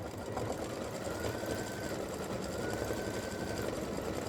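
An embroidery sewing machine stitches the yellow feet of a Thanksgiving turkey design, running at a steady, fast, continuous whir with a rapid needle rhythm that stays close and even throughout.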